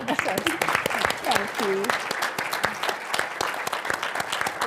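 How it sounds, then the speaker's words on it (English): An audience at a Senate President's lecture gives a speaker a fresh round of sharp, close applause, lively and steady throughout, while a voice speaks briefly over the clapping. "I think she deserves another clap."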